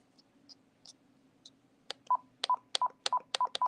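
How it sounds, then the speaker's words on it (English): Rubber keypad buttons on a sturdy desk phone being pressed, giving a few soft clicks followed by a rapid run of six short DTMF beeps, close and clear against a quiet background. "You can hear the click from when I press it."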